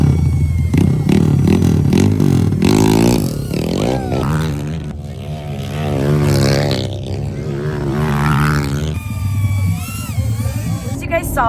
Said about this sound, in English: Ultra 3 is racing trikes around this small-ish lap